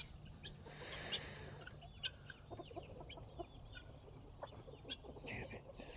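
Guinea fowl and a large flock of chickens settling in at dusk, giving faint scattered clucks and short calls from several birds at once, irregular and somewhat distant over a low ambient hum.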